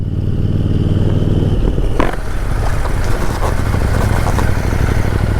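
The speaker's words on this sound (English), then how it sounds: "I love the way that exhaust sounds" A 2021 KTM 890 Duke's exhaust roars loudly and continuously nearby, its rumble rising sharply as the rider revs up and accelerates, with rushing wind noise.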